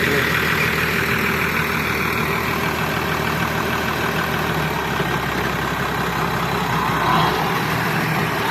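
A tractor engine idles at a farm selling Holstein heifers in Ukraine, a steady low rumbling drone that holds loud and even throughout, with no talk over it.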